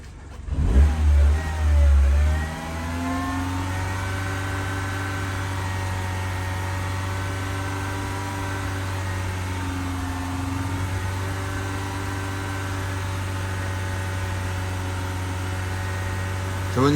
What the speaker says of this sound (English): Get the engine hot.